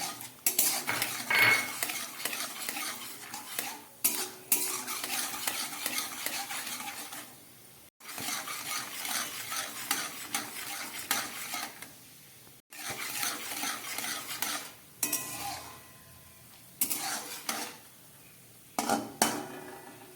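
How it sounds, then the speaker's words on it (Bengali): Peanuts frying in hot ghee in a pan, with repeated loud scraping and clattering of a spoon stirring against the metal in uneven bursts over a soft background sizzle. "এবার এর মধ্যে বাদামগুলোকে আমি প্রথমে ভেজে নিচ্ছি।"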